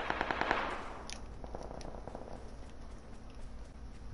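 Rapid automatic gunfire in PUBG from a 100-round weapon, a fast burst of sharp cracks up front that trails into scattered distant shots and a low rumbling backdrop.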